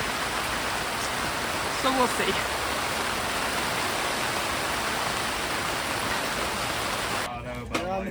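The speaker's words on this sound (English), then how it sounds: "it's pouring down rain." Dense, constant hiss of heavy rain pouring down, with a person briefly speaking under it near the end.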